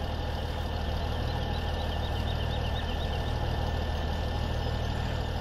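A tractor engine idles steadily in Farming Simulator 17, a continuous low rumble held at constant level throughout with no talk over it.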